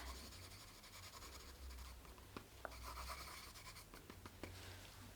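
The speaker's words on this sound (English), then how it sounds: "So I'm just going to write your usual prescription." A pen writing a prescription by hand on paper, soft continuous scratching and scribbling strokes with a few tiny taps, very quiet and close under a faint hum, no speech.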